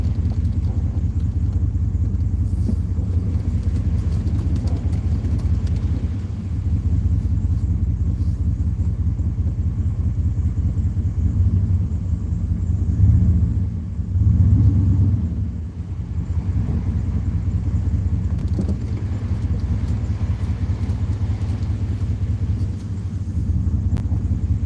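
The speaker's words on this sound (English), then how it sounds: "I really like the sound of a big block 460 with just basic headers and exhaust." A big block 460 V8 with basic headers and exhaust rumbles steadily and loudly at idle in a 2001 Dodge Ram, a deep continuous throb with slight swells, no voices over it.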